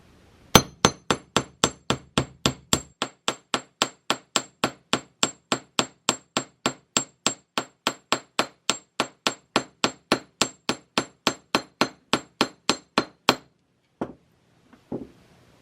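A steady run of about forty sharp metallic hammer strikes flattening the end of a wire at an even, quick rhythm, close and loud, then a few isolated taps after a pause.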